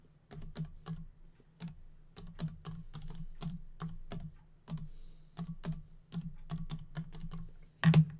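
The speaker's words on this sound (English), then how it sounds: "Like my clicky keyboard?" Fingers type steadily on a clicky computer keyboard, with sharp, close keystrokes coming in irregular bursts and short pauses, and a louder double click near the end; no one speaks.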